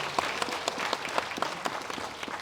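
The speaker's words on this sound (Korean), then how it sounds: "자 박수로 성원해 주시면 대단히 고맙겠습니다." Audience applause at a memorial service for President Syngman Rhee in a memorial hall, a steady spatter of many hands clapping at moderate volume with no voices over it.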